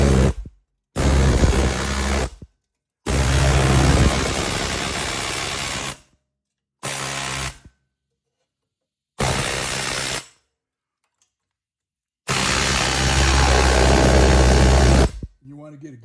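An air chisel hammers in loud, close bursts against a Subaru Outback front wheel bearing, firing in several separate rattling blasts of one to three seconds with short silent pauses between them.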